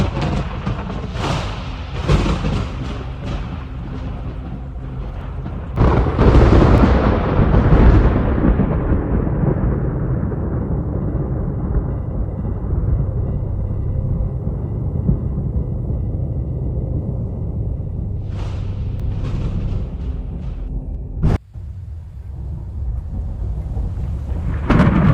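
A severe thunderstorm over Germany during Storm Lambert rolls out loud, continuous thunder, with deep rumbling peals, a heavy crash partway through and a sharp crack near the end, all over a steady wash of storm noise.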